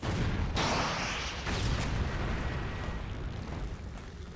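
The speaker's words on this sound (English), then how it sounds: "To wrap it up, we have the Missile Launcher, which is laser guided and creates massive boom." A laser-guided missile launcher explosion in the Starship Troopers video game, a massive loud boom with a rolling, roaring rumble that sustains for several seconds with a second burst partway through.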